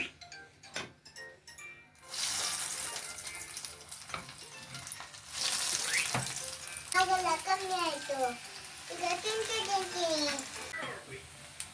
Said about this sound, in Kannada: ಈಗ ಎಣ್ಣೆ ಕಾದಿದೆ. ಈ ಬ್ರೆಡ್ ಕ್ರಿಸ್ಪ್ ರೋಲ್ನ ಅದಕ್ಕೆ ಹಾಕಿದರೆ ಬ್ರೆಡ್ ಕ್ರಿಸ್ಪ್ ರೋಲ್ ರೆಡಿ ಆಗುತ್ತೆ.